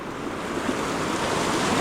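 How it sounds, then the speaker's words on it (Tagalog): A fast river swollen by nearly a week of rain rushes past in a steady, loud, broadband roar of churning water, continuous and close, with no voices over it. "lakas ng ilog mga bok, gawa nung maulan"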